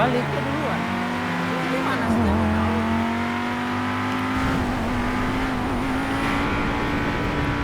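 A sedan's engine revs steadily in a car video game, with a sustained droning motor tone that rises and falls slightly throughout, while people talk over it.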